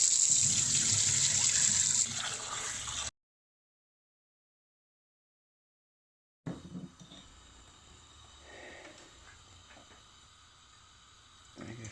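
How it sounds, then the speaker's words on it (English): Running tap water splashes over rice being rinsed in a sink, a steady close hiss for about three seconds, then silence, then quieter intermittent water and handling sounds. "First you need to wash the rice and then you need to soak it for 1 hour."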